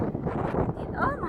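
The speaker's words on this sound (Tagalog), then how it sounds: "Oh, mahangin na." Outdoor wind buffets the microphone in Glyfada, Greece, a steady low rumbling gust with a faint voice in the background.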